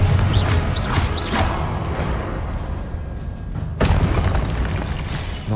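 A Confringo fire spell in Hogwarts Legacy bursts with dense, heavy booming and crackling rumble, sustained and loud, with a fresh impact surging in toward the end.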